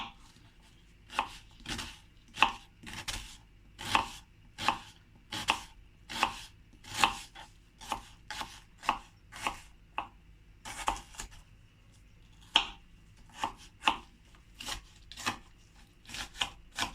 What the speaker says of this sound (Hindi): पहले हम प्याज काट लेते हैं।